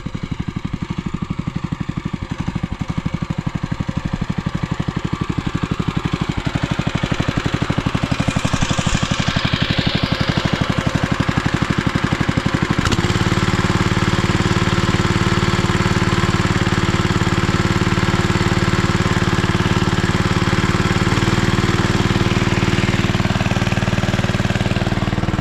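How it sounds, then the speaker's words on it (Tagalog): A farm machine's engine runs in a field, chugging steadily at first and then jumping to a louder, heavier revving drone that holds without letup. "Tapos papalaksin natin yung makina."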